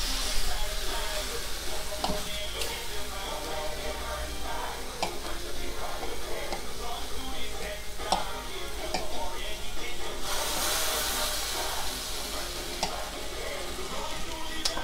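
Food sizzling and frying in a pan with a continuous close hiss and occasional clinks and scrapes as pieces are turned over.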